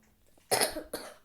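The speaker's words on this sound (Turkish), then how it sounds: "Öksürüyorum da." Two sharp coughs from someone who is sick with a runny nose, close to the mic, the second cough shorter and following a brief pause.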